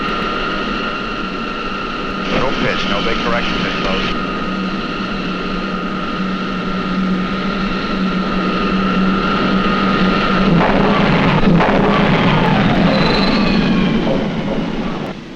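A jet aircraft coming in to land on the deck of the carrier USS Forrestal, with a loud sustained engine whine and roar and a rising rush of noise near the end.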